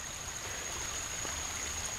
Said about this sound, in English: Here is an ephemeral channel, flowing water